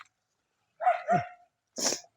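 A dog gives two short barks close up, a huffy woof followed by a sharper bark, with silence between them.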